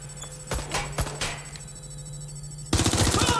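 Gunfire in the video game Watch Dogs Legion: a few sharp, separate shots ring out, then a sudden loud, rapid automatic burst takes over at close range.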